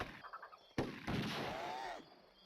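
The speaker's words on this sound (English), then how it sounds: "and shoot even more enemies" Gunfire from an Indiana Jones video game as enemies are shot down, a sharp crack followed by a dense, sustained burst of shots with a rising whine, fairly loud, no talk over it.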